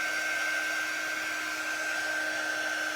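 A hair dryer blows steadily to dry paste on a painted bunny door round, a constant close whirring hum with a high whine and no pauses, with no one talking.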